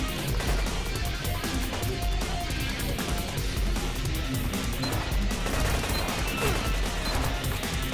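Sustained machine-gun fire in the PvP shooter Gunz, a dense and continuous rattle of rapid shots mixed with crashes, loud and unbroken for the whole stretch.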